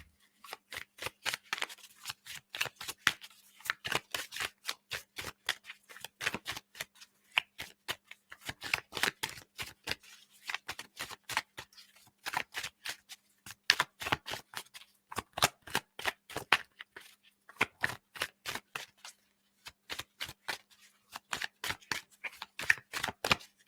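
Tarot cards shuffled by hand in quick riffling bursts, crisp close-up flicks repeating in short runs with brief pauses between them, and no talking.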